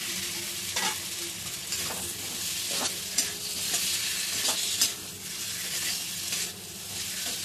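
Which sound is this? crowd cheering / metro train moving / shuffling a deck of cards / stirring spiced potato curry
stirring spiced potato curry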